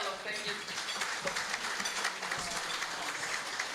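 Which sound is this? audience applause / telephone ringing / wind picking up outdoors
audience applause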